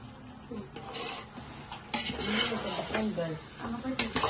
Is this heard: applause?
no